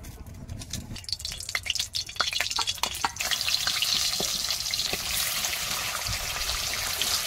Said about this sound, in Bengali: কড়াই তুলে দিয়েছি, এবার আমি মাছ ভাজবো।